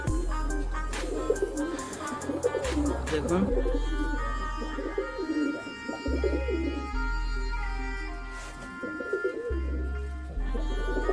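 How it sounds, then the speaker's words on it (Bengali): Domestic pigeons at a home loft in Purba Medinipur, including a Jira hen, give soft repeated cooing and murmurs close by, heard under a man's speech with a low rumbling background. "আর ওখানে একটি জিরা মাদি কবুতর রয়েছে"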